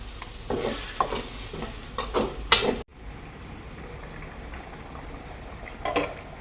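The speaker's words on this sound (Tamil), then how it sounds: "நல்லா கொதிக்குது பாருங்க" Bubbling and stirring noises from a pot of curry boiling on the stove, louder scrapes and clinks early, then a quieter steady simmer.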